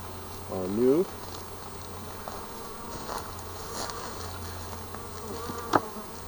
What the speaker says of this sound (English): So all these bees are new.